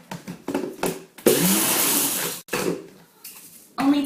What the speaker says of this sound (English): I'm just going to put that in my blender and quickly pulse it down.